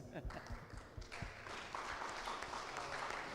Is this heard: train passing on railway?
no